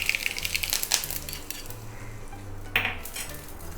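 Spices stirred in a cooking pot with hot oil, mustard seeds, red chili powder and asafoetida, giving soft scraping and a few sharp metallic clinks of the spoon against the pot over a low sizzle, close up.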